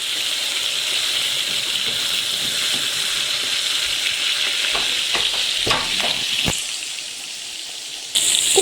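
Fish sizzles and spits in oil in a frying pan in an old village house kitchen, a steady close hiss with a few sharper crackles and clatters near the end.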